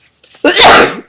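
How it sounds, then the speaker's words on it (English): A single loud, sharp sneeze bursts out after a faint breathy intake, close and abrupt, then fades quickly. "Oh, I'm going to sneeze."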